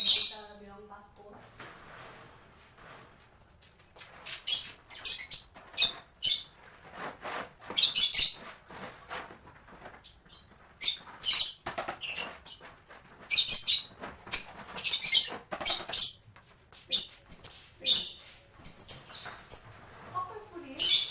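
Lovebirds in an Indonesian bird-keeping setting chirp in bursts of sharp, high tweets and squawks, irregular and close, with rustling and flapping between calls.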